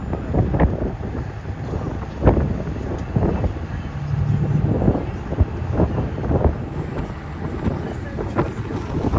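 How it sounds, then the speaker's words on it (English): Gusty wind buffets the microphone in a steady low roar over open water in New York Harbor near Ellis Island, with a faint engine rumble underneath and no talking. "it's windy as shit out here on the water."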